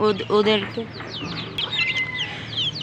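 Hens clucking close by in a backyard flock, a burst of rhythmic clucks followed by scattered higher chirps and calls from other birds.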